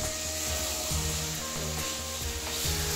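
Chicken kosha sizzles and fries in a pan, a loud, steady sizzle with occasional scraping stirs close by.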